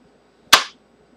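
A Kel-Tec Sub 2000 rifle snaps shut as it is folded and locked, a single sharp, close click-clack in otherwise quiet surroundings.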